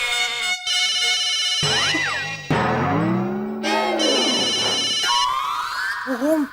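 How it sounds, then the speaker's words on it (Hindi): A mobile phone ringtone plays loudly and on its own, a run of bright electronic melodic tones that shift and repeat in phrases for several seconds, in a domestic comedy scene. "फोन बज रहा है, फोन उठाइए।"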